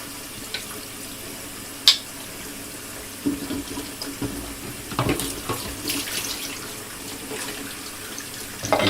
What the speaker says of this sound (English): It's just moving water